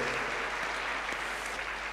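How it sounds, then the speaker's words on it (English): Audience applause for a showjumping rider at an interview event, a steady dense wash of clapping sustained at moderate level throughout. "give her a round of applause"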